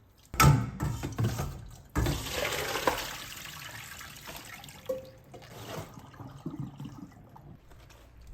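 Salted cabbage is rinsed under a running kitchen tap for kimchi. Water gushes and splashes into a sink at close range, with some handling and sloshing as the leaves are moved, and nobody speaks.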